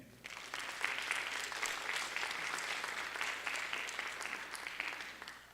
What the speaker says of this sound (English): Graduates, would you take this time to applaud your supporters for being here today?